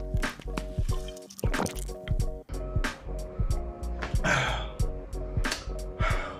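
Water is poured and drunk indoors: close, irregular liquid drips, splashes and gulps, with a low hum running beneath and no speech.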